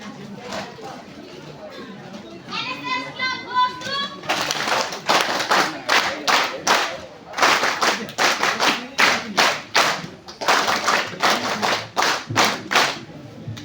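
Seated after a short period of quiet chatter and a brief voice, the audience at an NSS event claps, first in a busy scatter and then in loud, rhythmic, unison beats repeated in quick bursts.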